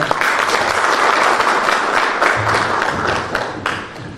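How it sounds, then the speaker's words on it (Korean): A seated audience at an Incheon Education Forum lecture on game-based and self-directed learning applauds to welcome the lecturer, a dense, steady wash of clapping that stays loud and even throughout. "위정윤 교수님께 강연을 요청드리는 힘찬 박수와 함께 강연을 시작하겠습니다"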